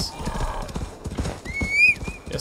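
Horse in Assassin's Creed Valhalla, heard as rhythmic, close hoofbeats at a steady clip-clop pace, with a high whinny midway and a player's voice underneath.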